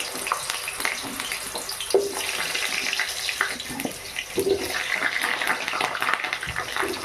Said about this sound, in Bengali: তেল গরম হয়ে গেছে কেটে ধুয়ে রাখা আলু এর মধ্যে দিয়ে দিলাম